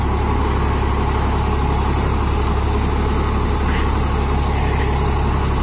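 A Swraj 963 FE CRDI tractor engine running, a loud, steady diesel drone held close and constant without a break.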